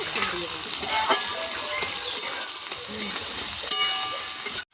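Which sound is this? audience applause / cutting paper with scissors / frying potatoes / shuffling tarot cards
frying potatoes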